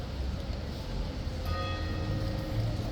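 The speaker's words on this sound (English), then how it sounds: "It's the bell for 4 o'clock." A clock bell striking four o'clock during the King's Guard inspection, a single clear chime ringing out midway and sustaining over a steady outdoor background hum.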